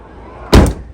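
A single loud thud of a power liftgate on a fifth-generation Toyota 4Runner slamming shut, following a brief quiet mechanical hum.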